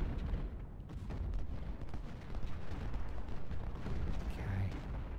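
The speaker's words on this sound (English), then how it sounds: "Nice, nice cannon fire." Cannon fire in the Civil War strategy game Ultimate General Civil War, a continuous rumbling barrage of deep booms rolling throughout, loud and dense with no clear gaps between shots.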